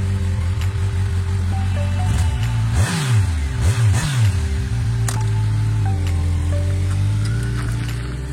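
A motorcycle engine still in its break-in period revs while riding, pitch climbing and dropping through a couple of sharp throttle blips mid-ride before settling into a steadier drone, loud and close.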